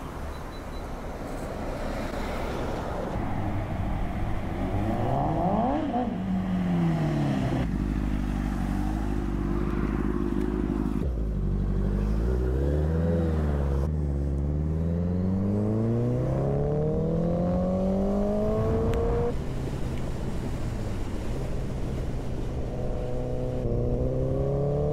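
A new Yamaha R25 motorcycle revs hard through its exhaust, rising and falling whines climbing in pitch over a low growl, loud and close, with no voices.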